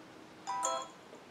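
A short popcorn-style notification chime from the iPhone Mail app plays once, a bright cluster of quick popping tones lasting about a third of a second over quiet background.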